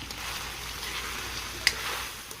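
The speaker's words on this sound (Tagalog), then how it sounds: "So hahayaan natin yan maluto sa sarili niyang mantika." Meat frying in its own rendered fat in a pot, a soft continuous sizzle with faint crackles and one sharp pop, fairly quiet and close.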